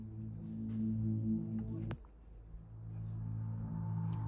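Soft background music from an AI-made farm strategy video game plays as quiet, sustained droning tones. The tones break off abruptly midway before a similar low drone resumes at a faint level.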